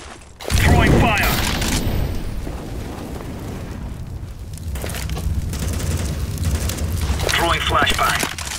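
An incendiary grenade is thrown in a Counter-Strike match on the map Mirage, followed by a loud burst and sustained crackling, roaring fire and combat noise lasting several seconds.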